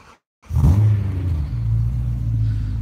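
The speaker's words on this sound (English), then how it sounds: "we're gonna have a cold start" A BMW car engine cold-starts after a brief silence, catching with a loud burst and settling into a deep, steady idle rumble close by.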